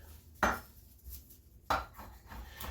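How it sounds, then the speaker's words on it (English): A knife chops parsley on a cutting board in a kitchen, two distinct sharp chopping knocks spaced over a second apart, close and fairly quiet, with no talking. "You just want to put a quick chop on the parsley."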